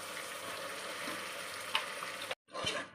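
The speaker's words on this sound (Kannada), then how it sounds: "ಹಸಿ ವಾಸನೆ ಹೋಗೋವರೆಗೂ ಚೆನ್ನಾಗಿ ಇವಾಗ ಫ್ರೈ ಮಾಡ್ಕೋಬೇಕು" Ground masala paste fries in an oily pan, with a steady close sizzle, a brief stir clatter, then a short break before the sizzling resumes.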